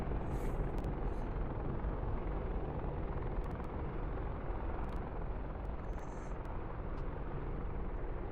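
Helicopter rotor slowing with the rotor brake applied in a flight simulation game, a steady, dense broadband whooshing rumble with faint high whines and clicks over it, holding at a constant level throughout.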